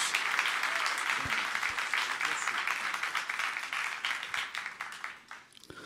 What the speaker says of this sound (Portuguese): Dá uma salva de palmas bem bonita, calorosa, em nome de Jesus